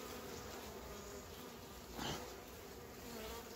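Honey bees on a hive frame during winter preparation buzz in a continuous close drone, swelling briefly as one passes nearer, with no voices.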